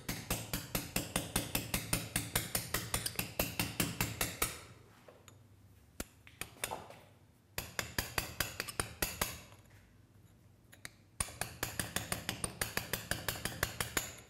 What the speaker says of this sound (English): I have to use the one which is lighter and which will give me much control